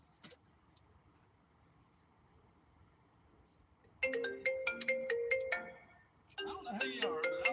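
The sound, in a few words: phone ringtone of an incoming call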